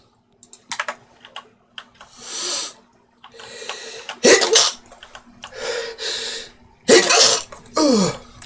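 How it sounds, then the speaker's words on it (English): Several sneezes from a character in Oblivion Remastered, the role-playing game, burst out loudly in a series with snorts and breaths between them, set against a quiet background with no speech. "Sneezes."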